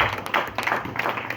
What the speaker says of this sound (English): Let's clap for Jesus for their life.